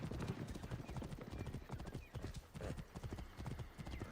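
Horse hooves clip-clop steadily and quickly in the video game Assassin's Creed Origins, a dense, continuous galloping rhythm heard up close with background game ambience.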